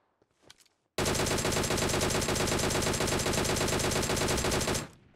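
Sustained automatic gunfire from PUBG Mobile, fired into the air: a loud, dense rapid-fire burst starting abruptly after a second of quiet and running about four seconds before cutting off.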